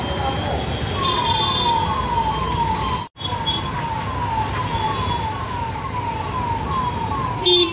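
An ambulance siren wails in a repeating rising-falling pattern while stuck in a traffic jam near Paradise in Secunderabad, loud and continuous over rumbling road noise, with a brief dropout partway through.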